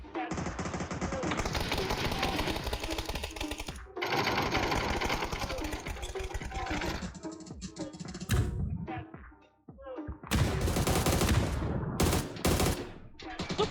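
Automatic weapon fire in a PUBG match rattles in long, loud bursts with short breaks between volleys, and voices speak over the shooting.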